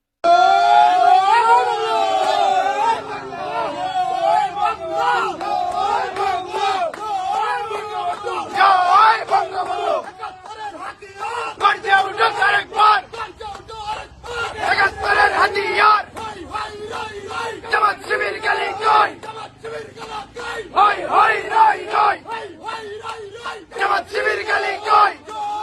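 A large crowd of supporters chants a political slogan in rhythmic waves, loud and massed, with a leading voice rising at the start and repeated shouted phrases throughout.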